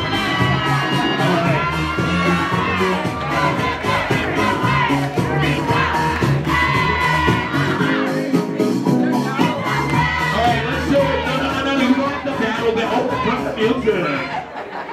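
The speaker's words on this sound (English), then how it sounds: "Give him a round of applause." A crowd at a ballroom ball cheers, whoops and claps loudly and continuously, with chatter and laughter mixed in and an announcer's voice speaking over the noise.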